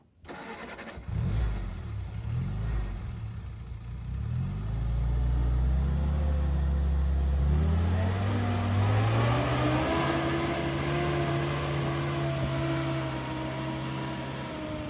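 Vintage Jeep with a flathead engine climbing a sand obstacle on a desert trail: the engine catches, then revs up in rising surges and holds a loud, strained drone as it pulls upward, nearby and continuous.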